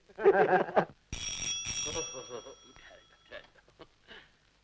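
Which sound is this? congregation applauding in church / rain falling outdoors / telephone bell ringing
telephone bell ringing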